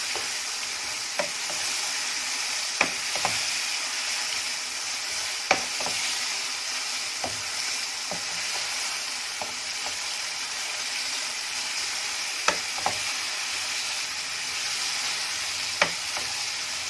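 Minced keema and chopped onions sizzle steadily in a pot, a constant hiss of frying punctuated by occasional sharp clicks of stirring.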